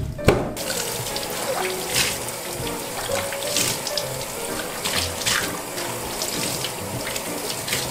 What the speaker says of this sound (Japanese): よし、洗っていこう。